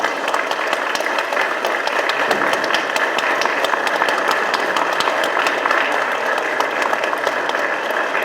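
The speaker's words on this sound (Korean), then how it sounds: "여러분 큰 박수 부탁드리겠습니다" A large crowd claps loudly and steadily at a joint campaign launch rally for the Democratic Party and the Platform Party ahead of South Korea's 21st general election, the dense applause sustained evenly from start to finish.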